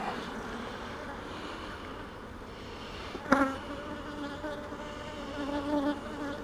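A steady, dense buzzing of many honey bees around hive frames fills the space close by, rising and falling slightly, with a brief clunk partway through.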